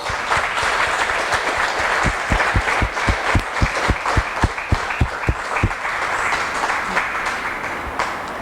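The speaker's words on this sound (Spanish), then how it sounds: "Démosle un aplauso a nuestro Dios" A church congregation applauds God, a dense wash of many hands clapping steadily for several seconds, with a run of sharper, rhythmic claps standing out in the middle.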